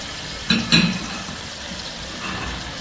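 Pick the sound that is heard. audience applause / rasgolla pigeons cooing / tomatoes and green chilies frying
tomatoes and green chilies frying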